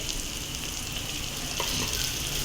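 A kilogram of potatoes fries with salt in a pan, giving a dense, even sizzle that holds steady throughout, close and unbroken by any voices.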